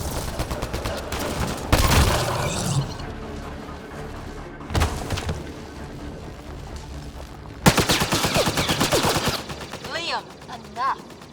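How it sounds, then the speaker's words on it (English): Heavy gunfire in the sci-fi shooter game Mass Effect Andromeda, with loud bursts of shots near 2, 5 and 8 seconds over a steady game soundscape and faint talk. "Just keep firing!"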